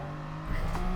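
A GR3 race car engine in GT Sport on the Le Mans circuit, a steady close drone that rises in pitch and grows louder as the car accelerates.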